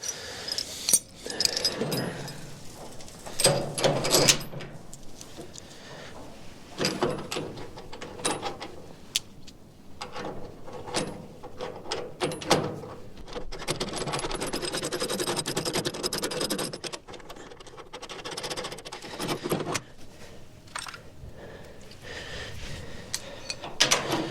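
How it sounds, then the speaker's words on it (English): Sliding barn door on a post frame barn being hung and adjusted on its overhead track: scattered clunks, scrapes and rolling rattles of hardware come in irregular bursts with quiet gaps between them. "then we can hang the door and get it all adjusted"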